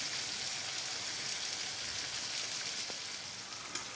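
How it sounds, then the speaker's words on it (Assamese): Water with potatoes simmers and bubbles in a pot, giving a steady, close hiss of fine bubbling and crackle throughout, with no voices. "এতিয়া উতলি আছে"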